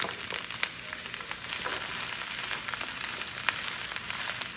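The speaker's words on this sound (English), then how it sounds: "now that the wok is up to temperature, we are gonna put the vegetables in here" Vegetables stir-fry in a hot wok, hissing and sizzling steadily up close. Faint clicks and scrapes of stirring sound through it. Nobody speaks.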